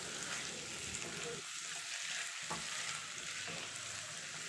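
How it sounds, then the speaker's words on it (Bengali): Chicken, about 500 grams, fries in hot oil in a pot for a chicken makhani handi, a steady dense sizzle with occasional stirring, close and loud, with no talking. "তো চিকেনটা দেওয়ার পরে এখানে আমি 2 থেকে 3 মিনিট মতো ভেজে নেব"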